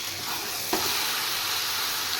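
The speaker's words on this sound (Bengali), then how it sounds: "এই যে ভাজা হয়ে এসছে" Soya chunks sizzling steadily in hot oil in a pan, a continuous close hiss with a brief clatter of stirring partway through and no talking.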